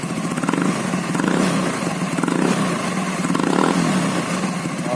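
Honda Vario scooter with a modified exhaust and left-side-only setup, its engine idling with a deep, mellow bass note and rising in short revs, close and steady for the whole stretch.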